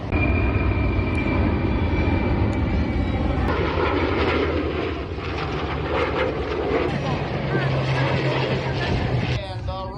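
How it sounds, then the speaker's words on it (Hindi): An F-16 fighter jet and a Hercules transport plane fly at the Abbotsford air show, a loud, sustained engine roar that swells and shifts as they pass overhead, with tonal whine throughout and no talk. "F-16 और हर्क्यूलिस विमानों ने भी करतब दिखाए हैं"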